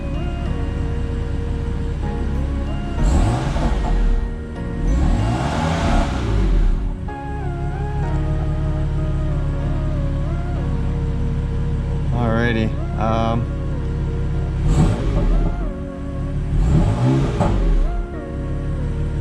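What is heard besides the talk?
BMW M4 exhaust revving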